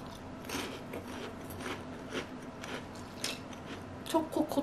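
Frozen Kkobuk chip chocolate churro snack being crunched and chewed close up, with repeated crisp bites and a louder burst of crunching near the end.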